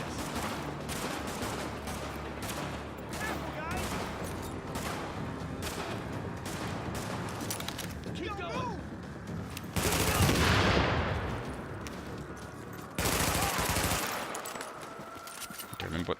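Rapid bursts of gunfire from the cover-based shooter The Division, with repeated sharp shots through the first ten seconds and louder heavy volleys later, set against steady game background noise.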